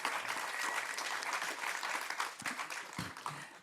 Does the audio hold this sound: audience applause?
yes